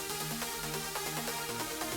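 An airy synth lead with its filter fully open plays a bright, hissy line of shifting notes over a steady musical backing, at a moderate, even level with no talking.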